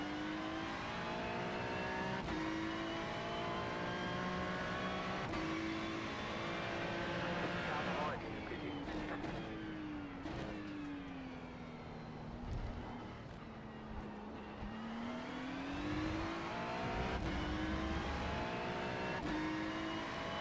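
Race cars in a racing video game, with a Ferrari running just ahead, give a loud steady engine drone throughout, the pitch dipping and climbing through shifts and corners, with brief clicks and rasps layered on top.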